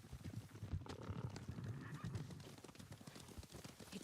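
Several horses gallop in the video game Ghost of Tsushima, with rapid, overlapping hoofbeats, and a horse whinnies among them, all fairly close and continuous.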